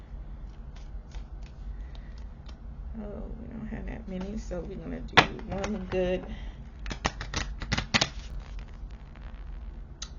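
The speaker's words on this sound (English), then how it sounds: "Let's shuffle." Tarot cards are shuffled with soft riffling and rapid flicking bursts while a person talks quietly over the sound.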